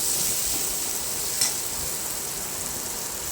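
A little water poured onto well-fried spice paste in a kadai for a fish curry hisses in a faint, even sizzle, with one brief clink partway through.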